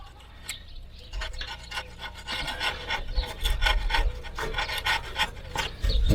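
A small straight razor scrapes old silicone gasket off a screen door in repeated short, rasping strokes, close up and moderately loud, with a few quiet breaths between passes.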